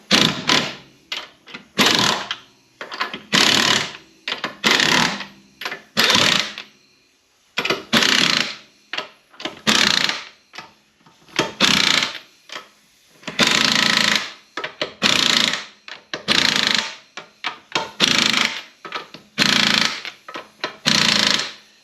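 An impact wrench drives a wheel lug nut on a Mitsubishi Outlander Sport in a long series of loud, rapid hammering bursts, each about a second long and separated by short pauses.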